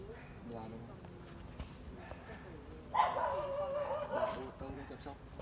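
A Phu Quoc dog barks and yips in short bursts over ongoing conversation, with a louder, whining stretch of barking midway.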